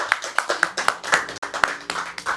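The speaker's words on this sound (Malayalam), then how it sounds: "എല്ലാവരും കൈയടിച്ചേ" A small family gathering in a Kerala home claps along at a cake cutting, a handful of crisp separate hand claps in a loose quick rhythm, close and clear, with faint voices in the background.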